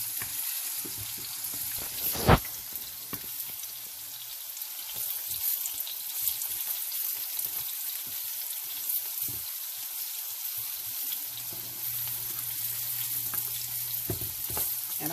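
Plantain slices frying in a pan while street tacos are cooked, a continuous close hiss of hot oil with a few scattered clicks and one sharp knock, no voices.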